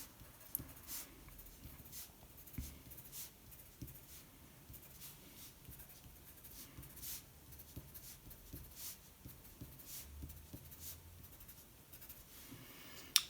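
A pen scratches and taps on paper while music note heads are written in, a quiet, close run of small strokes and dabs with faint room noise beneath.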